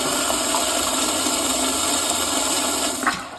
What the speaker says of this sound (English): It's gonna flush automatically, but watch this flush